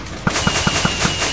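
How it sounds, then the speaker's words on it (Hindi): Firecrackers in the Minecraft video game, triggered with a lever, go off in a rapid, evenly spaced string of about six sharp pops, loud and close, with no talking. "मैंने जो अपने प्यारे पटाखे बना के रखे गाइस, एक मिनट उसके लिए मुझे सिर्फ और सिर्फ चाहिए लिवर।"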